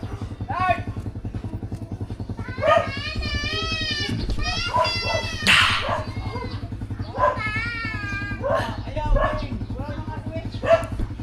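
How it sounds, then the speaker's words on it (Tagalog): A dog barks and whines in repeated short bursts close by, mixed with excited children's voices and chatter throughout, over a steady low hum. "may aso, may aso"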